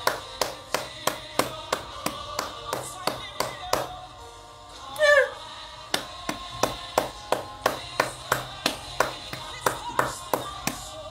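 A crowd in Bangui, Central African Republic, claps in a steady rhythmic beat of sharp, close hand claps, pausing briefly while a voice calls out, then resuming the even clapping.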